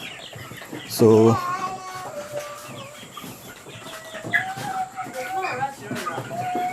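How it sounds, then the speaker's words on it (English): Broiler chickens about half a kilogram in size cluck and chirp on a poultry farm, a scatter of short calls over a background din, with a person speaking nearby and one sharper squawk early on. "for the time being we are rearing broiler chickens."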